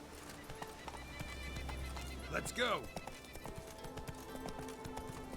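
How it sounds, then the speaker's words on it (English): Horse hooves clip-clopping as a horse is ridden off-road in The Witcher video game, steady hoofbeats with a loud neigh in the middle, while a person speaks briefly over it. "we're off-roading with a horse"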